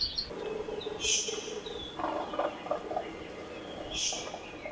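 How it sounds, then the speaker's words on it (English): Hawaiian honeycreepers sing in a 2005 field recording, giving a few faint, high chirps and short trilled phrases spaced across a quiet background. "The birds we're listening to are predominantly honeycreepers, a diverse group that descended from a Eurasian finch 3 to 5 million years ago"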